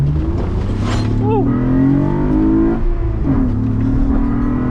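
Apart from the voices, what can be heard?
Acura TL 3.7L engine running and revving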